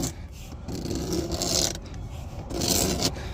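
Wheel well liner fibers are sanded down by hand, giving a soft, close scraping rasp in repeated strokes with short pauses between them, quiet and alone with no talk.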